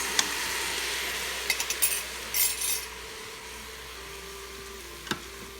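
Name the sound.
stirring sticky rice with sauce in Instant Pot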